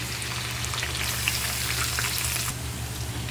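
Pork strips and chicken breast frying in oil in a pan while cooking filling for vegetable lumpia: a loud, steady sizzle and crackle that holds evenly close to the pan, with no one speaking.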